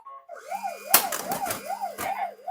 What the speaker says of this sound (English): they've decided that siren noise is necessary all of the time